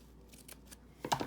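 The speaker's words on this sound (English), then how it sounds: "I cut my seam allowance off" Scissors snip a seam allowance off quilt fabric, a few faint, quick blade closings close by, with one sharper cut at the end.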